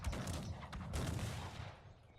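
Rapid bursts of gunfire in the strategy game Cossacks 3, a dense crackling fusillade of musket shots with sharp individual reports, sustained for a couple of seconds at moderate distance.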